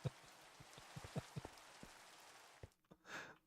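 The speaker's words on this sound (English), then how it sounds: "My game is confused. It's like raining." Rain falling in the video game Minecraft: faint, scattered droplet ticks and soft patter, fairly quiet and distant, with a breathy sigh-like sound near the end.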